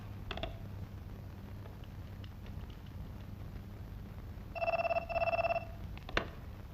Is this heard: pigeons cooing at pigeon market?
no